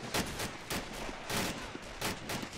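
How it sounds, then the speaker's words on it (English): Mortar strike explosions in Arma 2's Normandy 44 battlefield, a series of heavy broadband blasts roughly every half second to second, loud and close, with no talking over them. "Oh, wow, a mortar strike."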